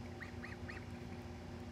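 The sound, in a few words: ducks quacking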